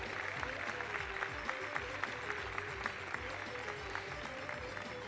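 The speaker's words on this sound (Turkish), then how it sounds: "Kuzey Polat'a da kocaman alkışlar gelsin" Audience at a school theatre performance applauding during the credits, a steady, moderately distant wash of many hands clapping with faint music or crowd murmur underneath.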